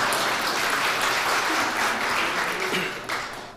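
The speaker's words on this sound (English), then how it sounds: "Come on, I need a big round of applause here." A reception audience breaks into sustained, dense applause, a full round of clapping that holds steady and then tapers off near the end.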